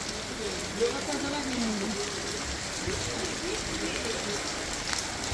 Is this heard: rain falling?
yes